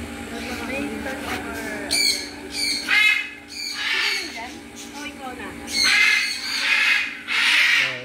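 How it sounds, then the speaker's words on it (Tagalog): Harsh parrot squawks burst out repeatedly over a steady background hum at a zoo, loud and close, with a voice speaking faintly underneath. "Ito yung mga ibon nila dito."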